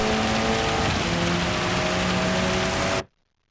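KTM X-Bow race car in a racing video game powering down a wet straight, a loud sustained engine roar layered with hissing spray that runs steadily for three seconds, then stops abruptly.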